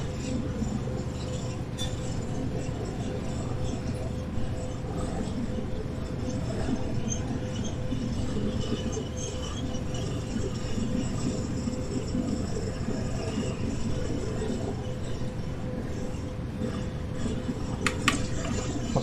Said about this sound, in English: Running train on in a blizzard.